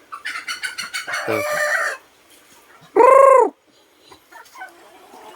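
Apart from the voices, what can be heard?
chickens clucking and rooster crowing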